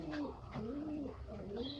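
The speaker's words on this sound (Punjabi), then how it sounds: "ਦੋਸਤੋ ਆਲਾ ਕੁਆਲਿਟੀ ਦੇ ਗੋਲਡਨ ਕਬੂਤਰ, ਕਮਗਰ ਕਬੂਤਰ," Pigeons coo softly in repeated low, rolling calls, close by and continuous, with faint chirps mixed in.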